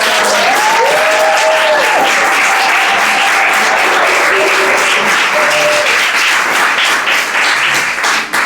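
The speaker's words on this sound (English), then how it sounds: "let's give a round of applause" A theatre audience at a night of new plays applauds loudly and steadily, a thick close roar of clapping that lasts throughout, with a few faint tonal whistles or cheers rising over it early on.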